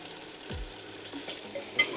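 Meat being returned to a chicken and sausage gumbo pot sizzles quietly and is stirred, with a soft scraping sweep and a few light clanks over a low, steady frying hiss.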